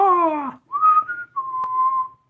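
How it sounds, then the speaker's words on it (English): A whistled bird-like call from a Wild West steampunk video game trailer, three long sliding tones in a row, loud and clear with nothing else over them. "All these birds can whistle like that."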